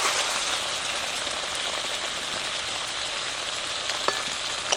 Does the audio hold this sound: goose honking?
no